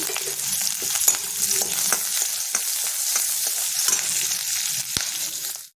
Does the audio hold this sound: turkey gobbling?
no